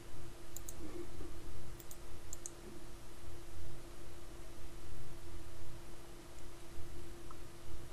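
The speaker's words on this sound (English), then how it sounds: "double click on the file or right click on the file and click OK" A computer mouse clicks several times to open a file, sharp short clicks in small clusters over a steady hum, close and with no talk.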